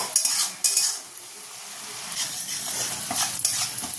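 Spice paste of nigella seeds, ground tomato and green chili being stir-fried in a pan for doi ilish, with a spatula scraping and clinking against the metal over a soft steady sizzle, two sharper knocks near the start.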